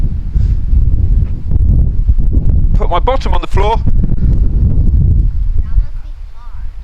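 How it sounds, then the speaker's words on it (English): Wind buffets an outdoor microphone in steady low rumbling gusts throughout, mixed with close instructional talk during an exercise lesson. "Getting windy now."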